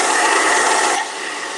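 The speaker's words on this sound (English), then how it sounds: "Give it just a quick blast to kind of help the paint along," A blow dryer gives a quick blast of airy, hissing rush over watercolor paint on paper, loud and close, dropping a little in strength after about a second and carrying on steadily.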